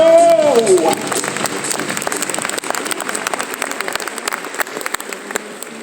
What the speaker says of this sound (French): un applaudissement de volontaires